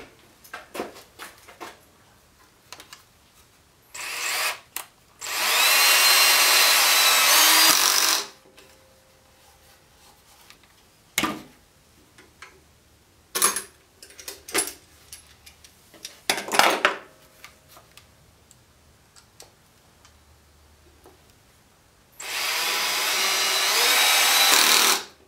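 A power drill whirs in three sustained bursts of several seconds each, driving screws into wood, with short trigger blips and clatter of handling between them, close by.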